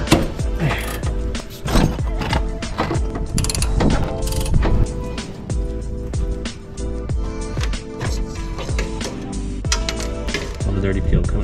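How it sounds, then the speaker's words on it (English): A ratchet cranks in quick clicking strokes to remove a tight bolt from the fuel filter bracket of a fuel-injected Honda street motorcycle, with metal clinks and someone talking nearby. "We're gonna go ahead and remove this bolt right there."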